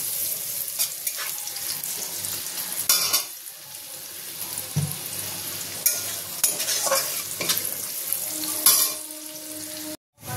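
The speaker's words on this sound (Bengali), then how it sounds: "এবার আমি দিয়ে দেবো গাজর কুচিটা দিয়ে দিলাম। এটা হালকা ভাজা হলে" Chopped carrots fry in a pan for Schezwan fried rice, a steady close sizzle broken by repeated stirring scrapes and knocks of a spatula against the pan, with no one speaking.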